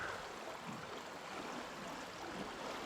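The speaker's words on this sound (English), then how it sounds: "you can hear the water in the caves" Water moves through shoreline caves on Lake Superior, making a faint, steady rushing and washing wash with soft swells and no voices.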